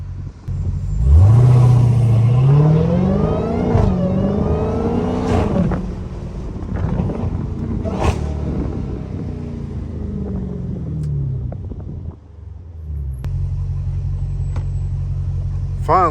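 A Dodge Hellcat driving through city streets, its engine revving up loudly with a rising whine, then settling into a deep rumbling idle, close and dominant, with someone talking over it.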